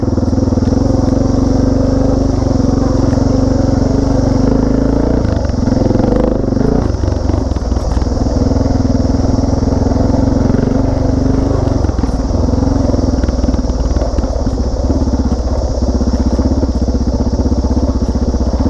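A motorcycle fitted with a new chain and sprockets rides along steadily, its engine droning loud and close with wind rush and mechanical clatter throughout, without talking.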